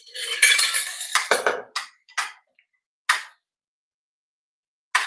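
Metal spoon scrapes and clinks against a pot as Malvani mutton is stirred with dry coconut masala, a busy burst of scraping followed by a few sparse, separate clanks with silence between.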